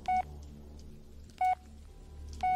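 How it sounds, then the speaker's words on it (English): Phone dialing tones in the Blair Witch video game, three short electronic beeps spaced about a second apart, clear over a faint low background hum, no talking. "Come on, Jess, pick it up the phone."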